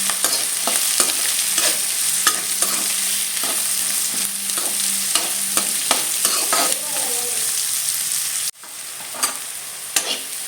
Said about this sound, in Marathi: कांदा थोडा परतून घ्यायचा आहे आपल्याला